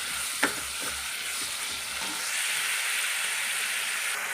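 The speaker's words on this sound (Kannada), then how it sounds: "ಉಪ್ಪನ್ನು ಹಾಕಿ ನಾವು ಚೆನ್ನಾಗಿ ಇದನ್ನು ಮಿಕ್ಸ್ ಮಾಡೋಣ" A mixed-grain palya sizzles in a pan as salt is stirred through it. A constant frying hiss runs under a few early utensil knocks and scrapes, growing slightly fuller toward the end.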